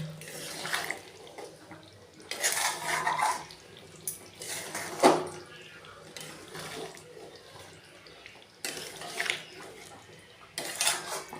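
Chicken stirred in a pan with garam masala, producing bursts of wet scraping and clattering metal utensil sounds separated by quieter pauses, with some background voice activity.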